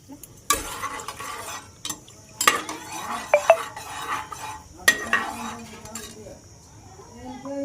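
Curry leaves dropped into hot tempering oil, stirred with a metal ladle; sharp scattered clinks and scrapes of the ladle against the pot over a faint sizzle, with voices talking.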